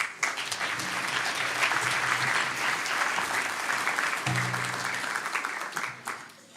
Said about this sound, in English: So a big round of applause for Jeremy.